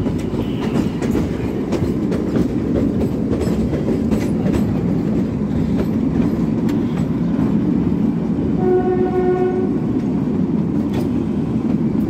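The Kalka-Shimla toy train rumbles loudly and steadily into Solan station with rhythmic wheel clatter, and a horn blows near the end.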